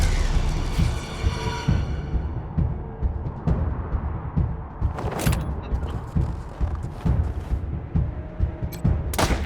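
Gunfire in the post-apocalyptic game Wasteland 3, with repeated sharp shots and bursts cracking through a dense, noisy battle soundscape across the whole stretch, loud and close.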